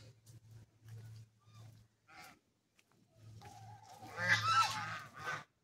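Village ducks honk in repeated nasal calls at moderate distance, growing into a louder cluster of overlapping honks and squawks toward the end.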